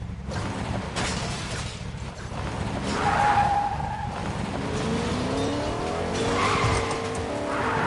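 A Lamborghini in a racing game on a phone revs and roars while its tires squeal through long skids, the engine whine rising and falling over a steady motor drone.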